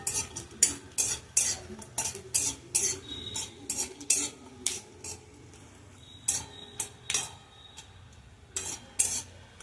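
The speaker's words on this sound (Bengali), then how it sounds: "বাদামটাকে এবার নেড়ে ভেজে নেব।" Peanuts are stirred and fried in a pan over low heat, a quick irregular run of clinks and scrapes from a utensil against the metal over a soft sizzle, with no talk.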